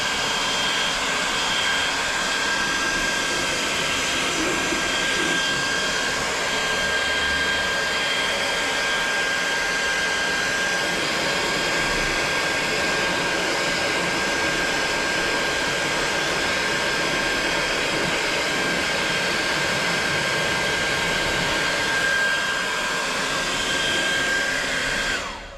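A heat gun warms vinyl wrap on a Kawasaki Z900RS motorcycle, giving a loud, steady blowing whine that runs unbroken and close for the whole stretch, with no talking.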